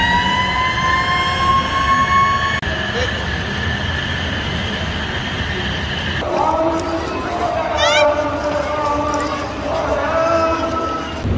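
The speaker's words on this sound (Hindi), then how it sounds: "अब खाली सायरन का इंतज़ार है बस" An iftar siren in Hyderabad's Old City near Charminar Bazar during Ramzan wails as a long sustained tone, heard amid busy crowd chatter and street noise, with voices talking throughout.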